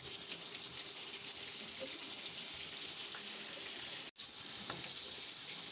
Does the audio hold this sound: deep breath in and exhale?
no